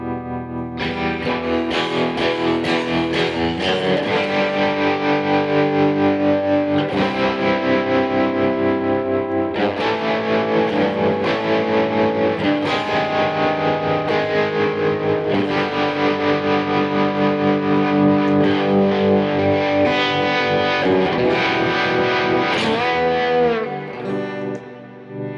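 Heavily distorted electric guitar played through an Axe-FX FM9 modeler, chugging chords and sustained notes ringing out loud and continuous for about twenty-three seconds before the final chord fades, no voices.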